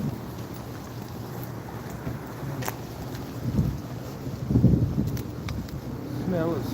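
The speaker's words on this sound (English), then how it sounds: "Woo, that wind is blowing." Outdoor wind gusts buffet the microphone in the New Orleans Garden District, a steady rumbling roar that swells in a couple of stronger blasts, with no one talking.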